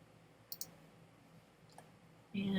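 Mouse clicks on a computer: a close quick double click, then a fainter single click, sharp and dry in a quiet room, followed by a voice starting to speak.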